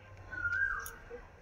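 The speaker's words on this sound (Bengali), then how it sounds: "শুনতে পাচ্ছ পাখির ডাক।" Morning birdsong in a village garden beside a young rose-apple tree: a clear whistled call rises and holds briefly near the middle, with a quick high chirp just after, against a soft, steady outdoor background.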